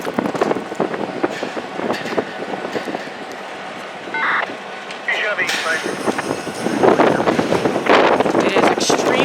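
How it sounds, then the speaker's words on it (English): Strong gusts buffet the microphone beside a CN freight train, a loud, rough rumbling roar that surges and drops unevenly over the rolling rail noise. "It is extremely windy out here, so I'm gonna do the best that I can."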